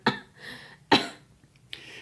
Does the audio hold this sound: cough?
yes